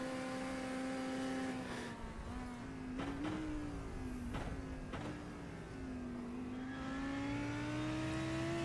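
A race car engine in a racing video game at Bathurst drones and revs steadily, pitch rising and dipping through gear changes, with a sharp burst of shifts in the middle.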